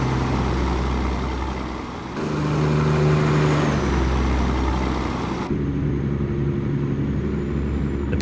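Heavy trucks roll past in a driving simulator, steady diesel engine drone with tonal hum layers swelling and fading as vehicles pass close by, continuous and fairly loud with no talking.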